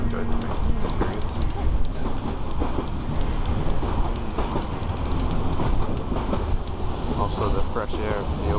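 A passenger train rumbles along loud and close through an open window, with continuous wheel noise, rattling clatter and occasional thin squeals over a heavy low roar.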